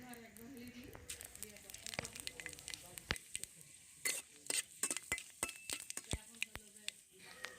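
Whole spices including bay leaves sizzle in a hot pan while making hog plum pickle, as a utensil scrapes and clacks in irregular strokes, with a person talking nearby.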